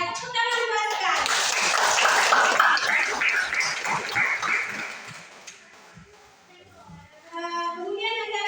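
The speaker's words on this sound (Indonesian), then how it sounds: "Ya, tepuk tangan buat sekali." A classroom of students claps hands together in a burst of applause lasting several seconds, fading out before voices return, with a teacher's speech and children's chatter around it.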